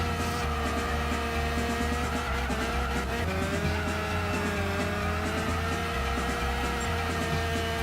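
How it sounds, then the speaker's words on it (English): A race car engine in Gran Turismo 6 revs high and tight in a sustained whine, pitch shifting between gears, loud and constant with no speech. "Oh, engine wound tight, man."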